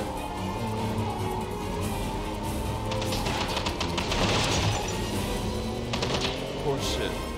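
Rapid machine gun bursts rattle through a busy video game battle, with heavy explosions and bomb blasts mixed in over a constant dense din, loudest around the middle.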